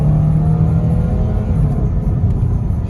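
A 1990 Pontiac Grand Prix STE with automatic transmission accelerating through its gears, a loud, close engine drone with rising pitch and smooth shifts, steady rumble throughout.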